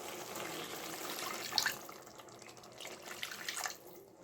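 Water poured into a pan of fish curry frying in oil, a soft steady splashing stream with a brief brighter gush midway, fairly quiet and heard alone.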